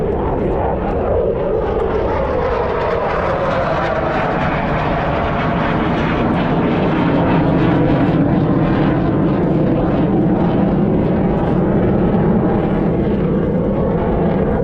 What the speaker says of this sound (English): All the jet noise courtesy of your U.S. Air Force